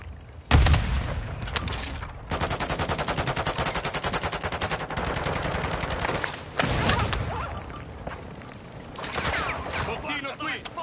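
Rapid automatic gunfire in Call of Duty Modern Warfare 2 Warzone 2 DMZ mode, dense fast bursts and a heavy thud, loud and sustained with brief pauses between volleys.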